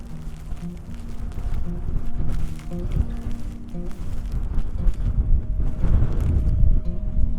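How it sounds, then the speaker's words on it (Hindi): Strong wind during a New York snowstorm roars and buffets against the microphone in uneven gusts, with low rumbling swells growing louder toward the end. "बहुत तेज हवा है"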